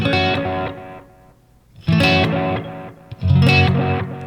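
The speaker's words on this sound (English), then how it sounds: "This is a drive on the delay line. Yeah, just on the echo." Electric guitar through a Caroline Guitar Company delay pedal with drive added to the echo repeats: three distorted chord bursts, each trailing into gritty, decaying echoes, played alone without talk.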